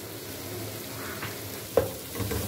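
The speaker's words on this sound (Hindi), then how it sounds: "अब हम इसे अच्छे से भूनेंगे और कीमे की जो खूबसूरत होती है भूनने की ना" Minced meat (keema) fries in a pan with a soft, steady sizzle, close by, broken by a sharp utensil clink and some stirring scrapes near the end; no one speaks.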